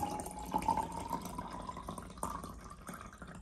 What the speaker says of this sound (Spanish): El agua tiene que caer de arriba abajo, agua del caño, del grifo,